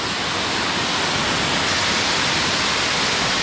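A woodland waterfall pours into a small pool below, a steady loud broadband rush of falling water with no breaks, filling the scene alone.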